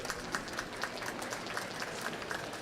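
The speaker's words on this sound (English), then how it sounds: "Let's give these fine wool exhibitors a big round of applause here" An audience at a county youth livestock show claps for fine wool lamb exhibitors. A round of applause sounds from a moderate distance, with many hands clapping in a steady, even wash that holds at a constant level throughout.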